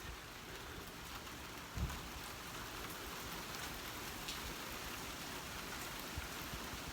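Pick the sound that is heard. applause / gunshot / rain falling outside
rain falling outside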